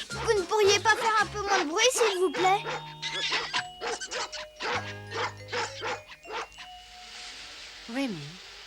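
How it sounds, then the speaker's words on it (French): Several dogs bark and yip in short bursts in an animated cartoon scene, mixed with people talking and background music. "C'est pour ça que les chiens font autant de bruit."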